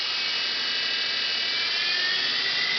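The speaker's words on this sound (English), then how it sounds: "This is cutting about mid-speed on the grinder." A 48-inch belt grinder running at mid-speed, a steady high-pitched whine and hiss, constant and fairly close with no voices.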